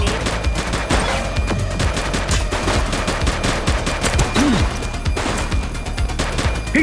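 Rapid, sustained gunfire in the police video game The Precinct: a relentless stream of close, sharp shots crackling without pause, with a brief low voice-like tone briefly under the barrage.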